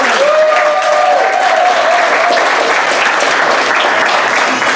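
A crowd at a political campaign rally in Anniston, Alabama applauds steadily, dense clapping sustained throughout, with a brief voice calling out over it near the start.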